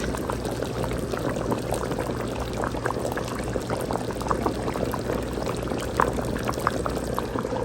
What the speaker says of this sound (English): Okay, the peppers are in there. It's all simmering.